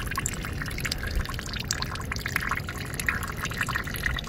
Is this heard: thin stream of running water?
yes